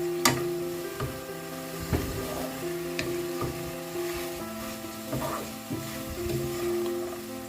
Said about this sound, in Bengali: আরও কিছুক্ষণ এইভাবে আমি ভাজবো ঢাকা দিয়ে।